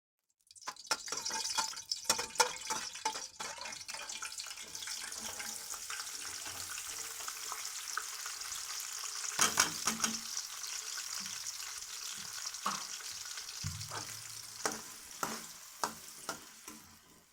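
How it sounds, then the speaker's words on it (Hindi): Onions frying in ghee in a pan, a soft steady sizzle punctuated by frequent clinks and scrapes of stirring, fairly quiet and without talk. "सबसे पहले घी शामिल करके प्याज ब्राउन करेंगे।"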